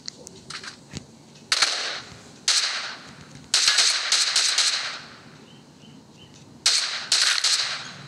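Bursts of gunfire in the mobile battle royale PUBG New State on the Erangel 2051 map, several sharp volleys of varying length separated by short pauses, loud and close with no talking.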